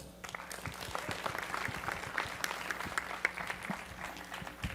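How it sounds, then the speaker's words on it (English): A conference audience applauds a speaker taking the stage, a dense, sustained patter of many hands clapping in a large room, with occasional louder claps standing out. "So please, everyone, give a big round of applause to Philip Rosedale."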